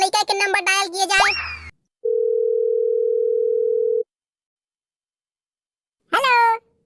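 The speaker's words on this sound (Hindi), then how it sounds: "कंप्यूटर महाशय प्लीज एक लड़का के नंबर डायल किए जाए" A steady telephone dial tone sounds for about two seconds while a number is dialed in a comic Chhattisgarhi KBC quiz-show skit, with animated voices just before and after the plain continuous tone.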